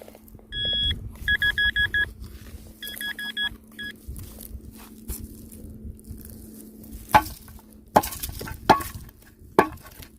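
A metal detector sweeping autumn farm fields in Ukraine gives two short runs of repeated electronic beeps, followed by a few sharp close thuds and rustles outdoors, with no talking.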